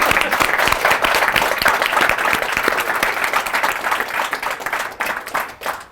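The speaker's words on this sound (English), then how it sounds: "applause." An audience applauds at an evening dating-coaching event in Lisbon, a burst of dense, loud clapping that holds steady, then thins and fades toward the end.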